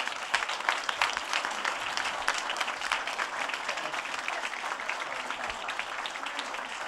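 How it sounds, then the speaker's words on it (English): An audience at a governor's bill signing applauds legislators, a dense, steady wash of clapping hands that fills the room and holds at even strength throughout. "can we give these legislators a round of applause for their great work?"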